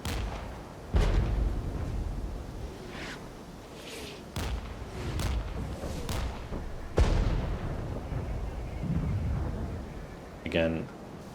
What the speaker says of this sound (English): This constant arty is going to make it very difficult for me to